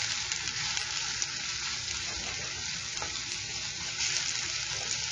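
Minced garlic and onions frying for tacos in a pan, a continuous close sizzle with faint stirring scrapes and no voices.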